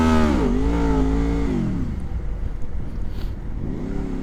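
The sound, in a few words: motorcycle engine revving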